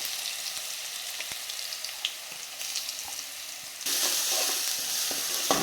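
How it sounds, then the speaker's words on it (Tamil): Cumin frying in hot oil with a paste of ginger, garlic and green chili, for a dhaba-style potato curry; a steady sizzle with scattered stirring clicks grows louder about two-thirds of the way through. "அரைச்சி வச்ச இஞ்சி பூண்டு பச்சை மிளகாய் விழுத போட்டு நல்லா பச்சை வாசனை போகிற வரைக்கும் வணக்கணும்"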